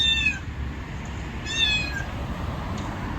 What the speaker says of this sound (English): So here's a cat one, which I think is hilarious.